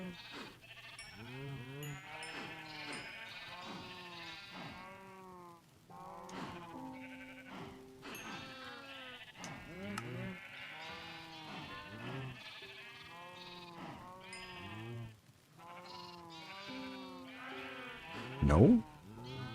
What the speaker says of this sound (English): Go, sheep, go.